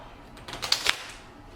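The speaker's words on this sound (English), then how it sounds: "It needs to reshuffle this deck." Cards from a Gloomhaven: Jaws of the Lion board game deck being reshuffled, a quick riffling flutter of clicks lasting under a second, close and fairly quiet.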